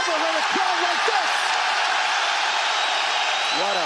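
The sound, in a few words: fight crowd cheering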